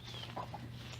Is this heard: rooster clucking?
yes